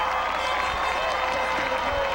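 Football stadium crowd at a New Trier versus Niles West high school game, a steady broad roar of cheering and applause spread through the stands, with no individual voice standing out.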